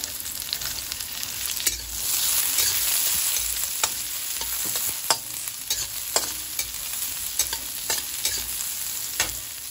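Sliced onions stir-fried in hot oil for pancit bihon with sardines, a continuous sizzle broken by sharp scrapes and clacks of a spatula against the pan, close and steady with no talking.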